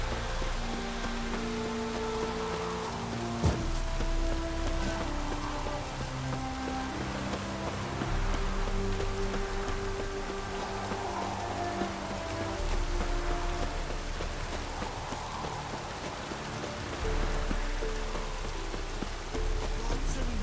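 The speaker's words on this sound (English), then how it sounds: "Looks like rain." Steady rain in the open world of The Witcher 3: Wild Hunt, a continuous soft patter of drops on surfaces with a low sustained ambient drone underneath, even and unbroken throughout with no speech.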